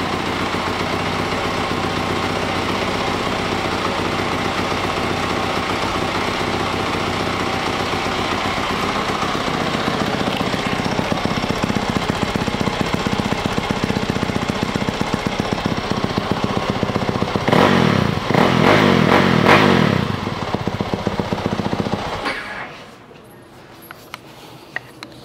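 A 2020 Yamaha YZ450F dirt bike engine runs loud and close, a rough rapid chatter that builds into a harder rev for a couple of seconds before cutting off, leaving near-silence.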